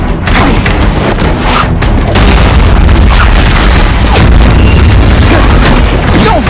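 A seismic blast explosion rumbles as one sustained, very loud wash of booming noise that fills the whole stretch without letup.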